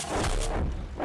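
A tank cannon fires in the Hills of Steel mobile game, producing a loud, booming blast with a rumbling tail and a second heavy impact close behind, with no talk over it.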